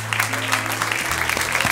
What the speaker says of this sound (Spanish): un aplauso con ganas